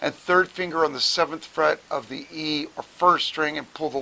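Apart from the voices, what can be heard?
No everyday noise stands out behind the speech.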